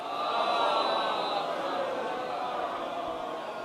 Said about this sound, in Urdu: ایک بار نعرے صلوات پڑھیں حضرات